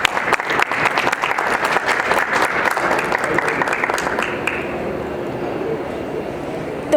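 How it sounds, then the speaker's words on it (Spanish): An audience at a medical conference applauds a departing speaker, a strong burst of clapping that stays dense for several seconds, then thins and fades into room noise. "La despedimos con un fuerte aplauso"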